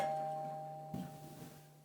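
A doorbell chimes with a steady sustained tone that fades slowly, followed by a soft bump partway through, with no one speaking.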